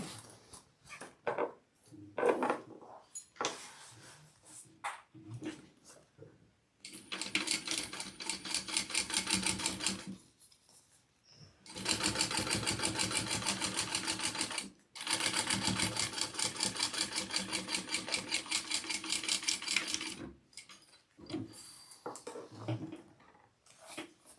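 A sewing machine stitches a row on a backpack, running in long steady bursts of rapid mechanical chatter. Short pauses and fabric handling come between the runs. The machine is close and clear, with a soft voice now and then.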